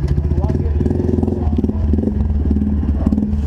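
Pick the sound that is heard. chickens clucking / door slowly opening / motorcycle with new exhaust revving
motorcycle with new exhaust revving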